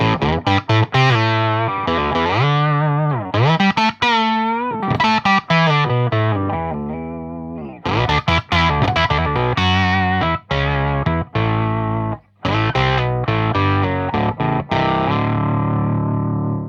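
Electric guitar through a Boss OC-3 Super Octaver in poly mode with the control knob turned all the way down, producing a gritty, effect-heavy tone; busy melodic phrases with bends and brief pauses, loud and steady with no voices.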